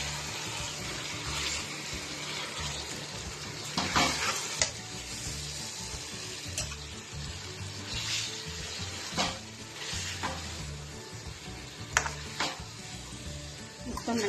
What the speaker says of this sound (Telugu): ఇప్పుడు మనం దీంట్లో చికెన్ వేసుకుందాం.